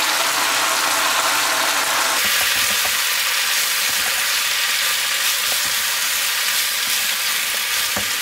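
Cabbage leaves stir-fried in a hot wok sizzle loudly and steadily, with a clatter of stirring partway through, close and alone with no voices.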